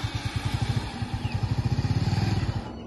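A Bajaj Avenger 220 cc motorcycle engine runs close by with a steady, rapid low-pitched thump that lasts the whole clip and briefly fades at the end.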